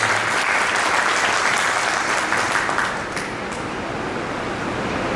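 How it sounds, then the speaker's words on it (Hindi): An audience at a motivational speech by CMD Nitin Sir breaks into loud, sustained applause, a dense wash of clapping that stays strong throughout and eases slightly near the end. "तो एक बार जोरदार तालियां आप सब के लिए।"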